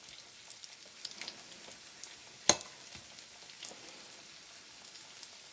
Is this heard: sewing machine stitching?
no